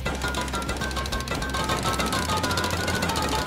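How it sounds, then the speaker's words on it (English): Rapid loud jackhammer pounding as a player breaks into a base in the game Rust, a fast continuous rattling with brief pauses and a mechanical whine mixed in. "With more jackhammers purchased, I went back to finish the job."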